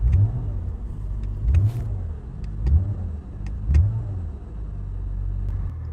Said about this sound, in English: I can rev the engine freely, and the car won't move, and it won't turn off.